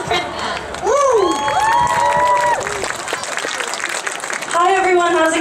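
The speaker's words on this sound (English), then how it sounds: "please give a big welcome and round of applause to Priska" An audience at an outdoor stage program of a Taiwanese American cultural festival in San Francisco breaks into sustained clapping and cheering, with whoops and shouts rising above the crowd and a nearby voice calling out over it.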